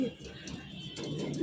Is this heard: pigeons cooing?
yes